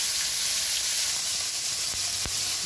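Beef sears in a hot pan at a food fair in Cochabamba, Bolivia, a loud continuous sizzle and hiss with a couple of sharp crackles and no talking.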